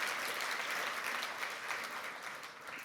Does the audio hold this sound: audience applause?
yes